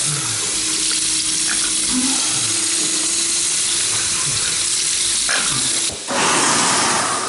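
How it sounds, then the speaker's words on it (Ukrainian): Steady running artesian water from a tap in Kyiv, a continuous broadband gush that stays loud and even, with a brief dip near the end. "Сказали, що тут артезіанська вода тече."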